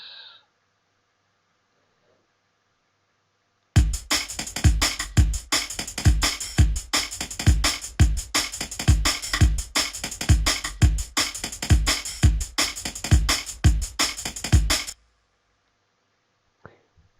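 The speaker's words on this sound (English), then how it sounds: "So I just programmed a little MIDI drum beat in here and crank the tempo up so it now sounds like this." Fast, sped-up MIDI drum beat built from sliced samples in Ableton Simpler, with a dense, loud run of rapid kicks and hits that stops abruptly after about eleven seconds, with silence before and after.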